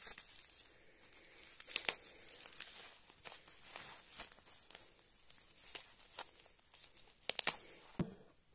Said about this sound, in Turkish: Baloncuklu poşeti yırtmaya çalışıyorum dostlar.